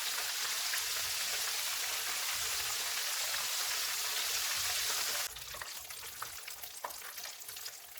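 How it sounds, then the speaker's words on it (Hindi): Chicken pieces frying in hot oil over a medium-low flame, a loud continuous crackling sizzle that drops to a thinner, sparser crackle partway through. "चिकन फ्राई हो गया, इसको निकाल लेते हैं।"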